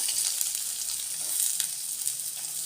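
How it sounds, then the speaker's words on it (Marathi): Onion softening in a small spoonful of oil in a pan, a faint, even crackling sizzle with soft stirring, close and steady for a few seconds, with no voices. "याच्यामध्ये आता मी हा कांदा आहे कांदा घालून घ्यायचा हलका असा परतून घ्यायचा"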